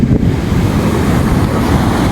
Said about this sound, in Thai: เดวนะน้ำมันจะขึ้นมา ตรงนี้เลยมันแรงมากมาแล้วมาแล้วมาแล้ว